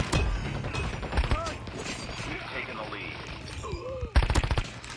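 Video game gunfire with a switchblade weapon, bursts of rapid shots at the start and again near the end, loud and close, with a voice talking through the gaps.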